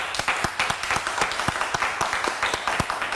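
Close, sharp clapping from a small group, with distinct individual hand claps in an uneven rhythm over a few seconds of applause.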